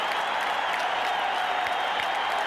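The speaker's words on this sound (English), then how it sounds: "the crowd is standing and still roaring" A large baseball stadium crowd in the 1986 NLCS Game 6 roars and applauds after a home run, a steady dense wash of cheering from a distance with no break or voice over it.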